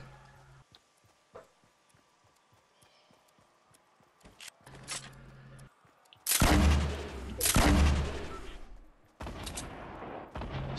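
Fortnite squad match gunfire: faint rhythmic footsteps at first, then loud bursts of rapid shots and heavy blasts in the later half, close and sharp, no talk heard.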